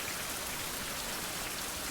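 Steady rain pours down in the 16th-century open-world survival game Fountain of Youth, a dense, unbroken hiss of falling water with no other sounds.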